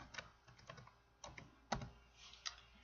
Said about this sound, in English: we're going to type in size